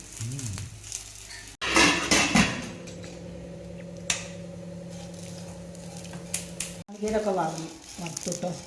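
Grated coconut sizzles and crackles while it is roasted in a pan for sambar, a steady close frying hiss with occasional scraping stirs and clunks, while people talk intermittently.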